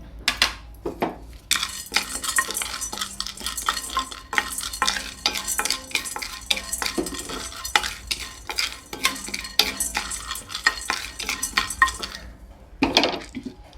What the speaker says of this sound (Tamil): மிளகாயை போட்டு நம்ம லேசாக வறுத்துக்கிறோம்